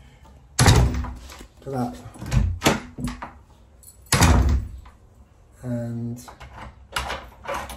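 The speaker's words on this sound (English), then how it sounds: "The way this door shuts is lovely." Wooden door with a newly fitted lock and escutcheon shutting with solid thunks, two firm closes with latch clicks and a rattle between, close up, while a person talks.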